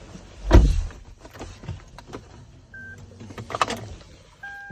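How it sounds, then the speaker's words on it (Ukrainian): A small electric steering column adjustment motor whirs in short bursts amid clicks and thumps inside a 2011 Lexus RX450h hybrid, with a brief electronic beep near the end. "Електрорулювання, до речі, рульової колонки тут теж є."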